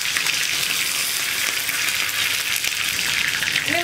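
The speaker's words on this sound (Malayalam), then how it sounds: "പാനിലേക്ക് വെളിച്ചെണ്ണ ഒഴിച്ചിട്ട് അതിലേക്ക് ഞാൻ കടുക് ചേർത്ത് കൊടുക്കണം, ഒരു അര ടീസ്പൂൺ കടുക്, കുറച്ച് കറിവേപ്പിലയും ഒരു രണ്ട് മൂന്ന് വറ്റലും" Half a teaspoon of mustard seeds, curry leaves and two or three dried red chillies frying in coconut oil in a pan, giving a loud, dense, continuous close hiss with fine popping crackle throughout and no speech.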